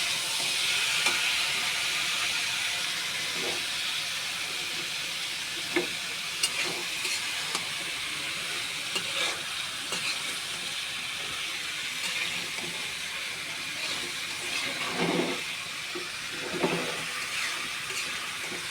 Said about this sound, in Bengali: আলুটার সাথে ভালোভাবে শুক্তিটা কষিয়ে নেবে